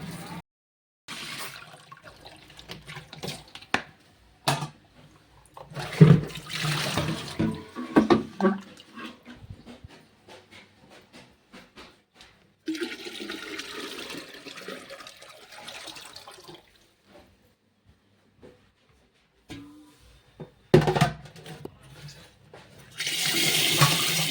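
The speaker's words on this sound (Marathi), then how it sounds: "चला आता प्यायचं पाणी भरते" Water running from a tap to fill drinking water, coming in several separate bursts of pouring and splashing with quiet pauses between them.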